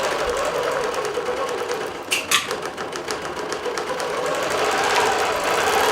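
A computerized quilting machine stitching a quilt, giving a steady, fast mechanical chatter that runs throughout at close range and moderate loudness.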